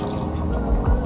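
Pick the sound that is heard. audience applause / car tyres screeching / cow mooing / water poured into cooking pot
water poured into cooking pot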